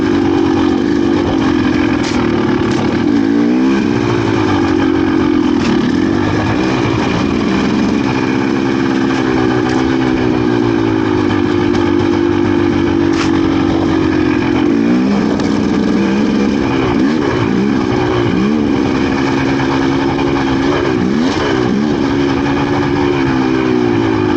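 A GPX TSE300 dirt bike engine, with a chainsaw mounted on the front, drones steadily and loudly throughout, with small throttle swells and dips as it rides along, no talking.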